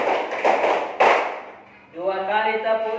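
A classroom group of students claps out a short rhythmic pattern of a few sharp, loud hand claps, then a teacher's voice takes over.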